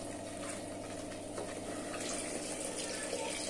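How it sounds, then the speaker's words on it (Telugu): Water poured steadily into a pot of mutton curry masala, a continuous soft rushing pour, fairly faint and uninterrupted, with no talking. "కొన్ని నీళ్ళు కూడా పోసుకోవాలా."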